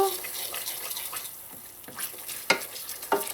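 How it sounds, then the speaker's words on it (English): Cream of tartar stirred into warm sugar syrup for Trinidad jalebi, soft swirling and liquid sloshing with a few spoon taps against the pot, close and quiet. "Mix that in and let your sugar syrup sit on your burner so that it keeps nice and warm."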